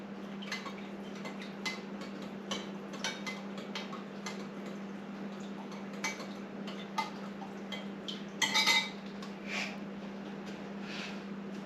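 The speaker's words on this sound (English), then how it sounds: "I'm gonna go on and put the brown sugar in here and give that a little stir" Brown sugar being stirred into a cooking pot, a spoon giving faint, irregular clinks and taps over a steady low hum, with no talking.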